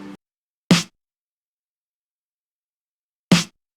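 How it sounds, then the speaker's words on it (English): A snare drum sample in a beat sounds twice, two crisp isolated hits about two and a half seconds apart in otherwise silent space, after a faint trailing sound at the start. "After that, I put this snare."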